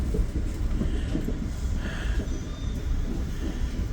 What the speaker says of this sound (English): there's a Metro train going past us right now.